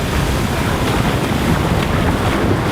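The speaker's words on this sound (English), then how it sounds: "I just gotta let the waves bring them in. So I let them crash it in and keep going." Ocean waves crash steadily onto the shore at Malibu, California, a loud, continuous roar of surf mixed with heavy wind buffeting.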